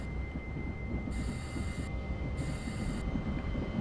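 A Sprinter Lighttrain (SLT) passenger train rolls past in Train Simulator 2015, a steady low rumble of wheels and running gear with a constant whine and bursts of high hiss, heard alone and fairly loud.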